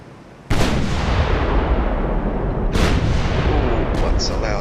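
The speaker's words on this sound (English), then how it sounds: "what's a loud sound as all the battleships fire off simultaneously?" Battleships in a naval strategy video game fire at once, sending a sudden massive boom into a sustained roaring rumble, with a second blast hitting a couple of seconds later and a voice speaking under the din.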